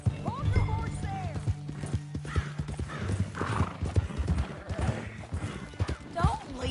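A horse in the video game Red Dead Redemption 2 clops along with steady hoofbeats and lets out a neigh, while voices talk over the busy scene.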